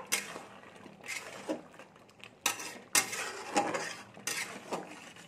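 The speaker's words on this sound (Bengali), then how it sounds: "আমি স্বাদ অনুযায়ী একটুখানি চিনি দিচ্ছি সামান্য পরিমাণে, দিয়ে আমি ঘেটে দেবো।" Vegetables for a Bengali jhinge sukto with matar dal are stirred in a pot after a pinch of sugar goes in, giving a quiet run of scrapes and clinks of a utensil against the metal pot, with no talk.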